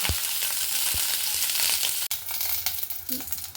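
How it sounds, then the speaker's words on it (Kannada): Green chillies fry in hot oil for aloo paratha, giving a steady close sizzle with a few sharp stirring knocks against the pan and no talk. "ಎಣ್ಣೆ ನೋಡಿರಿ, ಈ ಥರ ಸ್ವಲ್ಪ ಚೆನ್ನಾಗಿ ಹುರ್ಕೊಂಬಿಡ್ಬೇಕು"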